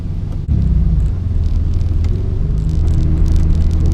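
A Chevrolet Cavalier Z24 pulled out of a barn on its first drive gives a steady, loud engine rumble and road drone heard from inside the car, with a short dip near the start.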